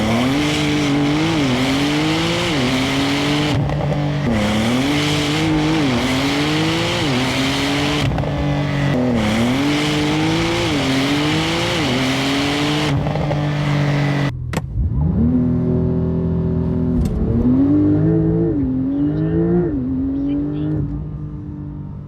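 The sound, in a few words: Porsche 911 Turbo S launch control acceleration on airstrip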